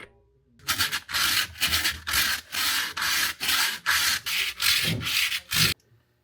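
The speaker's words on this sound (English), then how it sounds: "Off camera, I got way more sanding and cleaning done of these brake pads and brake pad surfaces." Boat trailer brake pads being sanded by hand, about ten rhythmic back-and-forth rasping strokes, loud and close, then an abrupt stop with no voices.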